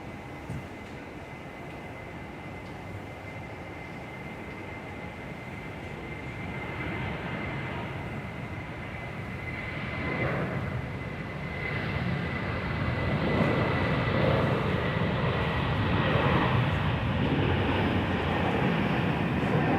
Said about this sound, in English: Qantas on the roll